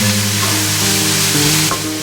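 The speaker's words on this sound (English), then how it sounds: "So you just need to break those lumps through, and then the meat will start to brown." Beef mince for chilli beef browns in a frying pan with a loud, continuous close sizzle and faint stirring scrapes.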